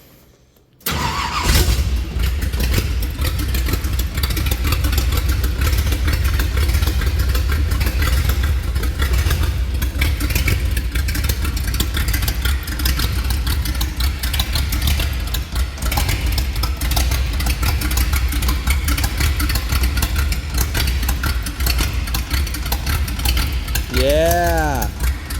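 Race car engine cranking and firing up after a short quiet moment, then settling into a loud, rough, lumpy idle that runs steadily, with a brief rising whine near the end.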